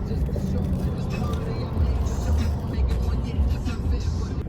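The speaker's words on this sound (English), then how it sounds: "the damn traffic, because traffic was so much and it's still so much" Heavy road traffic on the exit toward a music festival gives a constant, loud low rumble of engines, with voices talking over it throughout.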